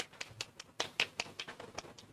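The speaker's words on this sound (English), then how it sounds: "we shall be doing the Obama clap." Audience members at a trachoma transition plan validation meeting clap in a slow, spaced rhythm, about a dozen separate claps heard fairly close and quiet.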